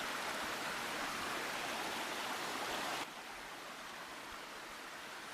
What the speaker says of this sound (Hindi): तीनों झरने के पास आकर पानी पीने लगे।